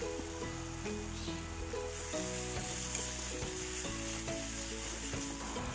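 Fried potatoes are stirred into dry masala in a pan for an Assamese egg curry, making an even, soft sizzle with light stirring under a steady tonal music bed.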